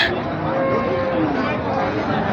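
A Sahiwal bull at a livestock market for Qurbani cattle gives one long, drawn-out moo, loud and close, over faint background murmur.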